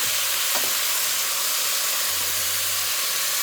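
Meat frying in a pan on a stovetop gives a steady, dense sizzle and hiss throughout, close and continuous, with a faint low hum underneath and no speech.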